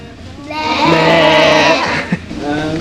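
Several children imitate the bleat of sheep together, a loud wavering chorus of baa sounds in a classroom, ending with a brief knock and murmur.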